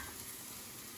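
Food frying in a pan during a lobster and crab fried rice cook, a brief, steady, close crackle and hiss with no talk.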